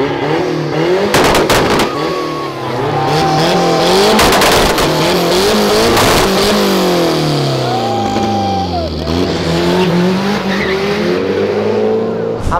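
A VW Up TSI and other cars leaving a car event, engines revving hard with sharp exhaust pops and bangs, tires squealing, passing close and loud with people talking and cheering nearby.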